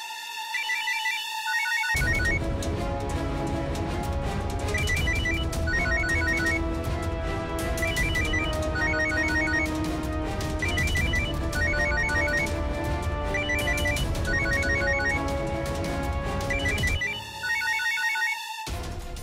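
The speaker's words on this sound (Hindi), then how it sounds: "फोन तो उठाइए ताकि मुझे तसल्ली हो सके कि आप बिल्कुल ठीक है" A telephone ringtone repeats in a steady melodic pattern for most of the stretch, loud and continuous, with short bursts of chiming notes recurring every couple of seconds before it stops briefly and starts again.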